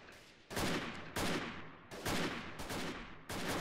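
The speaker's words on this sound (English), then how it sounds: "Who's shooting at me right now?" Five loud, sharp bursts of gunfire in the video game Freeman: Guerrilla Warfare, each one close and decaying quickly, separated by short silences at an uneven rhythm.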